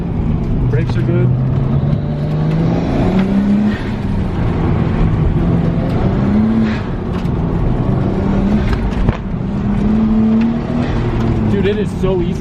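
A turbocharged Nissan Skyline engine revs and accelerates up close, its pitch rising through gears in repeated pulls, with people talking over it.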